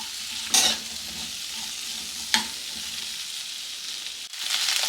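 Capsicum pieces fry in a generous pool of oil for a restaurant-style capsicum curry, giving a steady close sizzle with two sharp stirring scrapes and a louder burst of crackle near the end.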